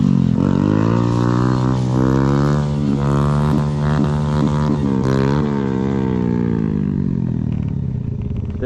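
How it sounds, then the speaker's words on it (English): A Kawasaki Z650 motorcycle engine held against its rev limiter, a loud, close, steady high-revving drone that sputters and bounces at the cutoff before the revs drop away at the end. "There's that rev limiter."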